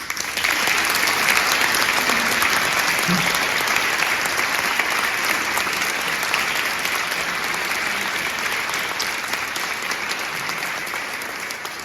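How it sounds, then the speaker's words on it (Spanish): Dense, sustained applause from a large audience at a polyphonic choir concert, a loud, even roar of many hands clapping that holds steady throughout and tapers only slightly at the end. "Pedimos para ella un aplauso."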